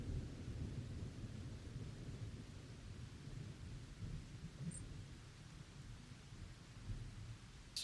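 Rain and thunder ambience during a tabletop role-playing session: a steady, quiet wash of rain with low, rolling thunder rumbling throughout and no talk over it.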